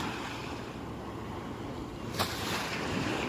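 Sea waves wash in at Kelulut beach in Marang, Terengganu, a steady broad surf roar with wind noise, one brief sharper splash partway through, and no voices.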